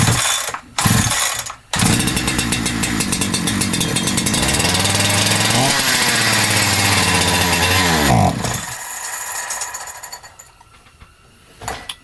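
A Holzfforma G372XP chainsaw is pulled over, then fires and revs loudly on choke with decompression engaged, holding a steady high-pitched roar for several seconds before the engine cuts out and goes quiet.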